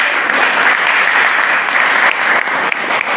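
A crowd claps together in a sustained burst of applause for a boy, dense and lively hand claps filling the room for a few seconds with no speech.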